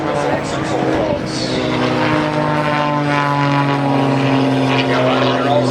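Propeller aircraft flying aerobatics at the Avalon Airshow, a loud, sustained engine drone that shifts in pitch as the plane climbs and rolls, with a commentator talking over it.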